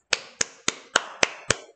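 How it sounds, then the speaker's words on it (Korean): A classroom of students gives a round of claps at the end of a lesson: seven sharp, evenly spaced claps in unison, close and fairly loud, with no talking. "자, 박수, 박수"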